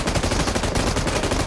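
Rapid automatic fire from an M249 light machine gun and a Groza rifle in a shooter video game, a dense, loud stream of shots rattling without a break for the whole moment, with no voices.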